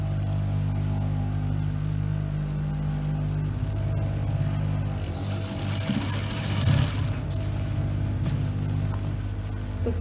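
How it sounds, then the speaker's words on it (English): A sewing machine stitches a blouse zipper, running with a steady close mechanical whir and hum for the whole stretch, with brief clicks and handling noise near the middle. "sew it under with the machine"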